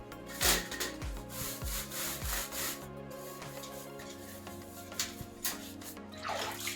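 An old wooden cot scrubbed while being washed with water, repeated rhythmic rasping strokes up close, with wet rubbing and occasional drips between them.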